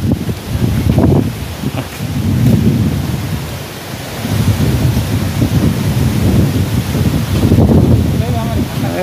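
Strong storm wind during an August thunderstorm, roaring and buffeting the microphone in loud continuous gusts, with rain and rumbling thunder mixed in and a person talking intermittently.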